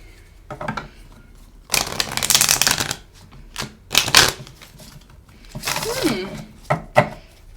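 Tarot cards are shuffled in several separate bursts of rapid riffling and slapping, close and crisp, with a voice speaking between the bursts.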